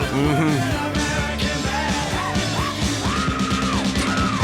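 A man lets out a long, loud rock-style scream, sustained and wavering over several seconds, with rhythmic rock music thumping underneath.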